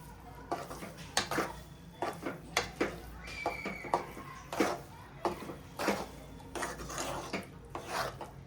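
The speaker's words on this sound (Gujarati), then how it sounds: "હવે આપણે લોટને શેકવાનો છે" Wheat flour is roasted in ghee in a pan for Gujarati adadiya, with a spatula scraping the pan in repeated rasping strokes at an uneven pace, close and moderately quiet.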